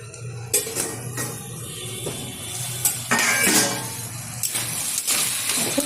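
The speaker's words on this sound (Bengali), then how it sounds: "ঢাকনাটা তুলে দিচ্ছি।" A metal lid lifted off a cooking pot of kalmi greens and katla fish head, giving several clinks and clanks over steady kitchen hum, with louder rattles in the middle and near the end.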